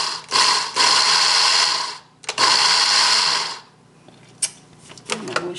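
A grinder chops muesli ingredients in two loud, steady whirring bursts of about two and one and a half seconds, separated by a short pause, with a few light knocks and rattles afterward.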